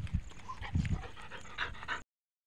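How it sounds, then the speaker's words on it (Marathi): A dog pants in quick, uneven bursts of breath, close to the microphone, with faint whimpering sounds mixed in and no voices. "आणि फार हुशार कुत्रा आहे मोत्या."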